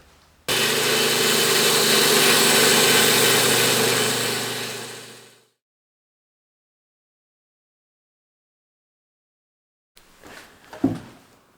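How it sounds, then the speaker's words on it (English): A bench grinder fitted with a Tormek sharpening jig, used for sharpening a woodturning chisel, runs with a loud, steady motor whine for about five seconds and then winds down into silence, followed by a few brief handling knocks. "This is very good Tormek sharpening jig on a very not Tormek grinder."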